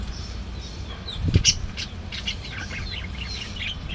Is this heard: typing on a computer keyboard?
no